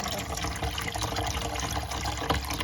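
Bitter yellowish water from cracked olives being poured off, a steady, dense splashing and gurgling stream that runs without a break, close and fairly loud.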